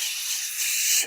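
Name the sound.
voice imitating fizzing of small bubbles in a sparkling Japanese drink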